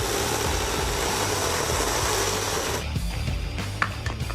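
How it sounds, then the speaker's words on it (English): A saw working through a wooden tree stump, cutting V-shaped sections to make legs for stump stools: a steady, close rasping drone that thins toward the end, followed by a few lighter scrapes. "Then, cut them out to make the legs for my stump stools."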